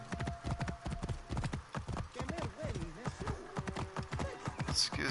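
Horse hooves clip-clop in a steady trotting rhythm in the video game Assassin's Creed Origins, with a brief whinny and game voices talking over the hoofbeats.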